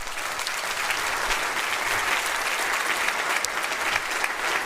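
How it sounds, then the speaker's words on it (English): A university audience gives steady, dense applause for its board of trustees, many hands clapping evenly at a strong, sustained level with no voices standing out. "could we please give them a round of applause?"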